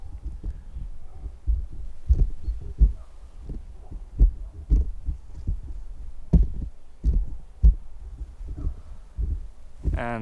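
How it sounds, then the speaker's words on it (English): Handling noise from a Rode boom pole being moved left and right, a run of soft low thumps, bumps and rubbing knocks at an irregular rhythm, close and fairly loud throughout. "And now we are testing handling noise of Rode boom pole."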